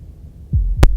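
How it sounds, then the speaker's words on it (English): A heartbeat sound effect from the Slay the Princess video game gives two low, heavy thumps, the second sharper and louder, in close succession against a faint low hum. "That was the sound of a heartbeat,"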